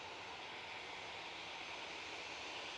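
Airbus A321ceo jet airliner at Manchester Airport, its engines giving a steady, broadband roar that holds evenly throughout, moderately distant with no talk over it.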